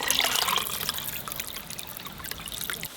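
Fish being washed in a bowl of water in a kitchen, the water trickling and splashing continuously at close range, loudest at first, then settling to a softer, steady dribble with no talking.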